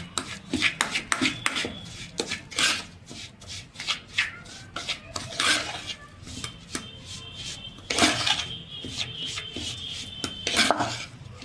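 Semolina batter with curd mixed by hand in a bowl, close-up wet squelching and scraping strokes in an uneven, repeated rhythm, with no talking.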